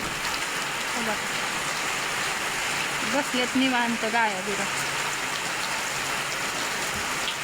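Steady rain falls at a farm with cattle, making a continuous soft hiss throughout while someone talks over it.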